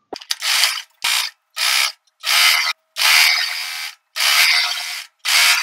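Sewing machine stitching kurti fabric, running in seven short bursts of mechanical whirring separated by brief pauses, close and fairly loud with no talking.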